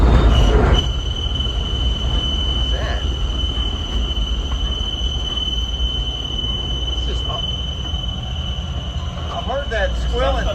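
A high, steady squeal comes from the rear of a 1968 Chevy 90 van, holding on continuously over a loud low road rumble, with a few shorter chirps near the end.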